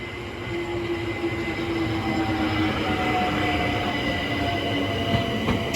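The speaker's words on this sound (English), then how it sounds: "Now arriving is the 1350 London Overground service from Hybri in Islington to Crystal Palace, being worked by" A London Overground class 378 electric train arrives at Sydenham station, a steady rumble of wagons rolling past with faint wheel squeal and a brief high brake tone, close and continuous.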